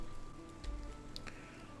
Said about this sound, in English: looks like apparently it's raining as well